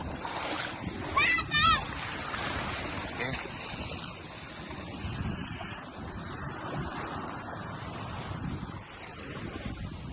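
Steady wash of surf rolling onto a beach at Ibiza Hut Beach, with wind buffeting the microphone and a few brief louder bursts early on.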